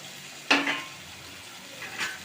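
Dried stingray and garlic being stirred in a frying pan: a sharp scrape of the spoon against the pan, then a softer second stir about a second and a half later, close and fairly quiet.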